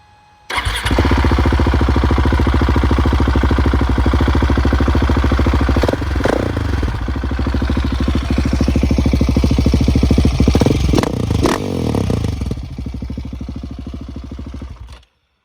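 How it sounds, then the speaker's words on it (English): KTM 690 SMC R motorcycle single-cylinder engine cranks and fires, then idles loud and close with a rapid steady thump and a few revs before cutting off. "Let me turn this thing on for you."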